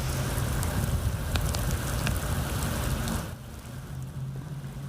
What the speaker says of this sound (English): Sound of heavy rain pouring on downtown Phoenix this evening.